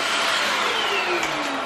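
A household vacuum cleaner runs steadily indoors in a new apartment, a loud continuous whine and rush of air with a slowly falling pitch, close by and uninterrupted.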